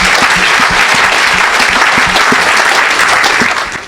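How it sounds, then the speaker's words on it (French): Loud, close applause from a church congregation, fast rhythmic clapping filling the space before it starts to taper off at the end. "Acclamez le Seigneur."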